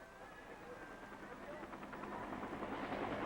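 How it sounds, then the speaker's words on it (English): Evacuation helicopters during the fall of Saigon in archival footage, rotor and engine noise faint at first and growing louder with a rhythmic chop toward the end. "Hour after hour, helicopters continued picking up loads of evacuees."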